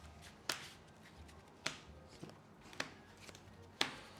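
A deck of Lorcana trading cards being shuffled, heard as a few quiet, sharp riffling snaps at irregular intervals, close up in a hushed room.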